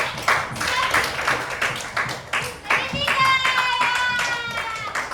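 Students in a classroom clap for a group in short bursts, mixed with children talking and a brief sung or chanted tone near the end.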